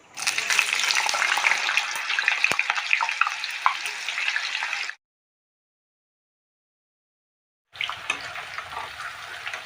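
Raw banana slices fry in hot oil for chips with a loud, crackling sizzle that runs continuously for several seconds, cuts to silence, then resumes at a similar level.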